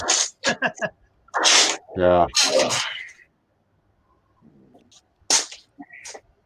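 A single loud, close sneeze bursts out on a TV game show, framed by short bits of conversation before and after.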